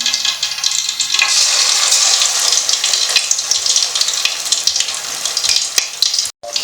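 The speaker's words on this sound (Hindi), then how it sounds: "अभी हम इसको आहिस्ता आहिस्ता फ्राई करेंगे।" Marinated fish pieces frying gently in moderately hot oil, a loud, steady crackling sizzle throughout with a brief dip near the end, no voices.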